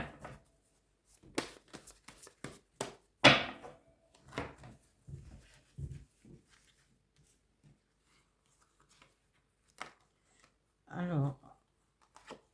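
Tarot cards being shuffled for a reading: soft papery riffles and slaps in short bursts spread over several seconds, close and fairly quiet, with gaps of near silence between clusters.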